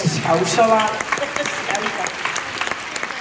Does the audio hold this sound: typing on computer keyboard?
no